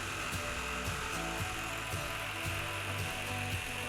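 A RYOBI jigsaw cuts notches into the tops of wooden table legs, its buzzing blade stroking in a steady fast rhythm with periodic pulses, loud and close throughout with no talking.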